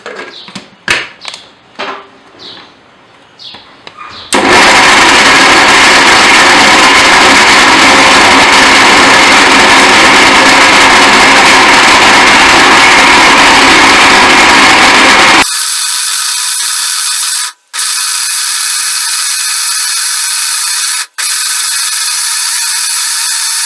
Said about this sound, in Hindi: खजूरें जो है वो हमारी अच्छी सी ब्लेंड हो गई